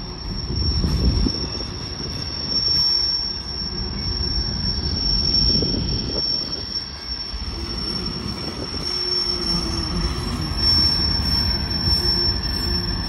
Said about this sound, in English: It's like the biggest low squeak of the squealing wheels.